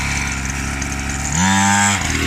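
A 50cc mini moto engine buzzes steadily nearby, then rises sharply into a loud, high revving whine for about half a second during a wheelie attempt before dropping back.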